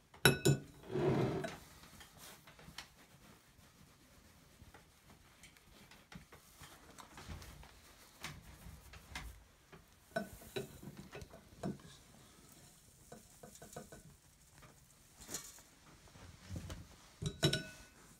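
Couscous grains are rubbed and broken up by hand in a bowl, giving soft, gritty rustles and scattered light clinks in irregular bursts, quiet and close.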